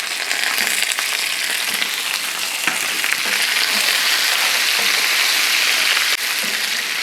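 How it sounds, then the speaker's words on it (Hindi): Pre-boiled beef pieces with bones sizzle and fry steadily with garlic and onion in hot oil for a biryani. The hiss is dense and continuous, with faint stirring scrapes and no talking. "गोश्त को हमने यहाँ पर लहसुन और प्याज के साथ भून लेना है।"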